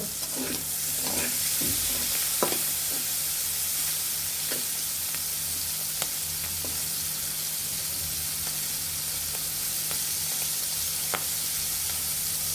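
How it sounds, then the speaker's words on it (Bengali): Prawns fry in a little oil in a wok with a loud, continuous close sizzle and hiss, occasional soft clicks of a utensil turning them, and no voices. "আমরা এখন চিংড়ি মাছগুলো ভেজে নিব"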